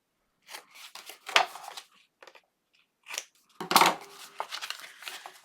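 Scissors snip paper to miter corners in short irregular bursts of crisp cuts separated by quiet pauses, close and clear.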